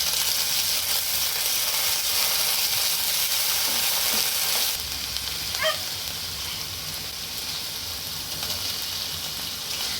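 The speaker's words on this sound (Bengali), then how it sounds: "পেঁয়াজটা একটু লাল হয়ে এলে এর মধ্যে দিয়ে দিলাম আদা রসুন বাটা এক চামচ" Browned onion frying with a spoonful of ginger-garlic paste in a pan, a constant bright sizzle that drops slightly in level midway, with a few soft stirring scrapes.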